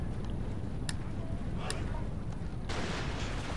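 Soldiers fire volleys on a battlefield in Empire: Total War, giving a few sharp distant cracks over a dense, continuous rumble of battle noise.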